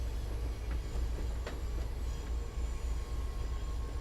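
An HSP46 diesel locomotive runs on the Boston–Providence line in Train Sim World 5, giving a steady, continuous low rumble with faint rail clatter and no voices.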